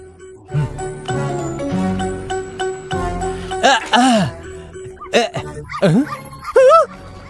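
A dog barks and yips in a Hindi-dubbed film scene, several sharp barks mixed with whimpers, a jingling tinkle and background music, fairly loud and close.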